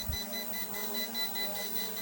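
Rapid high-pitched electronic beeping from a Z908 Pro Max drone repeats in a steady pattern over a low hum, moderately faint.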